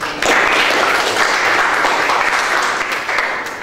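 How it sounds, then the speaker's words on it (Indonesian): A classroom of students applauds in a loud, dense burst of clapping that starts abruptly and holds steady before gradually thinning toward the end. "Tepuk tangan dulu."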